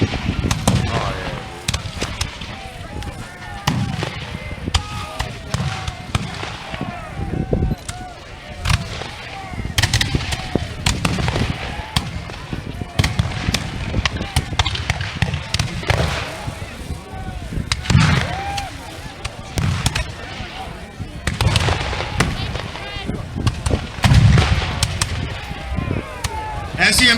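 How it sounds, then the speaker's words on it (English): Battle of New Orleans reenactment with musket volleys and booming artillery, scattered shots and heavy blasts cracking out irregularly over a noisy outdoor field, with voices of people talking mixed in. "As the American fire intensified, General Packingham is hit and mortally wounded"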